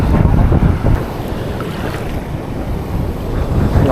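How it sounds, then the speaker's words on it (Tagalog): Strong wind buffets the microphone on a small fishing boat at sea, a loud continuous roar and rumble mixed with splashing waves, with no talking. "maraming lakas ng hangin."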